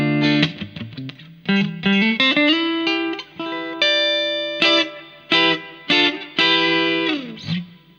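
Jet JS-600 electric guitar on its neck and middle single-coil pickups at full volume, playing bright, crisp single notes and short chords with clear ringing sustain and a slightly brittle edge, separated by brief pauses.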